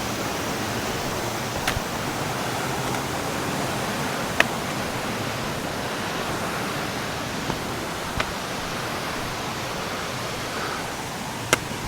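A remote mountain valley stream rushing in a constant broadband roar, near and steady for the whole stretch, with a few faint clicks on top.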